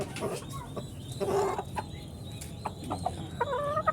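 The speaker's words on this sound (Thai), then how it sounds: "นี่จะเป็นไก่ไข่นะครับ โรดแดงนะครับ" Rhode Island Red chickens cluck and murmur in short, scattered bursts, with a few louder squawks standing out against quiet background noise.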